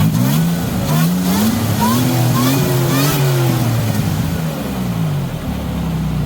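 A supercharged Nissan Xterra engine revs up and down in several rising and falling pulls, loud and close, with a steady mechanical drone between them.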